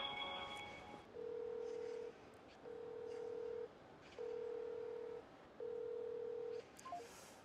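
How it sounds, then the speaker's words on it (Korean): A telephone ringback tone repeats four times in a steady on-off pattern, each ring about a second long with equal pauses, heard faintly on a quiet line while calling a housing union office. "조합 측과 전화 연결을 해봤는데요"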